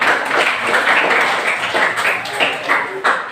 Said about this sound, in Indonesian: Tepuk tangan lagi, nak.